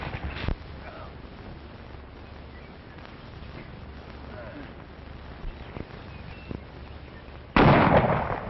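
Gunfire from a 1935 western, with a sharp shot near the start and a loud burst of several shots near the end, over a steady crackling, hissy background of old film sound.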